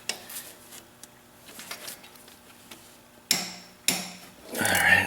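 Tools work loose the shift motor on a 2002 Honda Rancher 350 ES ATV, producing light metallic ticks and taps, a couple of sharp clanks, and a rising scraping rattle at the end, close and fairly quiet, with no talking.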